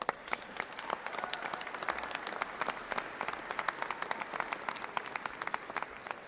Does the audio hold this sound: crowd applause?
yes